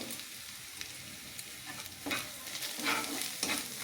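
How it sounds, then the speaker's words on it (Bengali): Ground turmeric, cumin and Kashmiri chili powder fry in a pan for dal makhani, a soft steady sizzle with scraping stirs that swell louder near the end, no voices. "আর একটু মশলাটাকে ভেজে নেবো এখানটা।"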